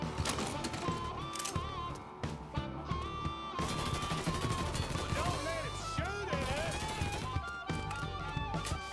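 Gunfire in the video game Mafia III, with shots scattered under dense game music and sound effects while someone talks over it.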